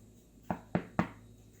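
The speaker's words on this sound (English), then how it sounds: "Knock on it. Knock it." Three close, hollow knocks on a hot, freshly baked loaf of Irish soda bread, evenly spaced and dull, heard alone with no talk.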